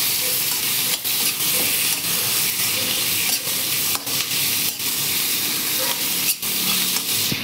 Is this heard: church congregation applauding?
no